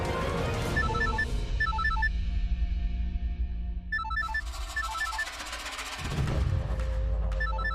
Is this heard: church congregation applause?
no